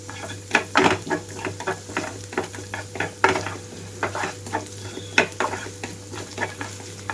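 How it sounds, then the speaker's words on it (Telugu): Semolina, ginger and green chillies roasting in a pan, with steady sizzling and repeated scraping stirs and metal clinks at an uneven rhythm, close and fairly loud. "అల్లం కూడా వేగిపోయిన తర్వాత పచ్చిమిరపకాయలు కూడా వేగాక రవ్వ కూడా వేసి వేయించుకుంటున్నాను"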